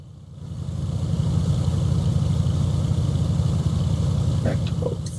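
A light aircraft engine runs up before takeoff during the propeller exercise, a loud, close, steady droning hum that holds throughout, with a few faint clicks near the end.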